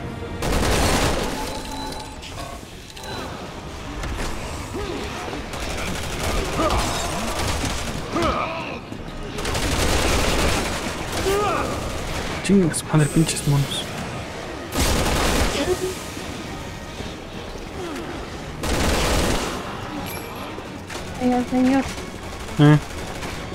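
Gunfire from the video game Resident Evil 6, with repeated bursts of shots and booms at intervals over an ongoing game soundtrack, while a person talks and exclaims throughout.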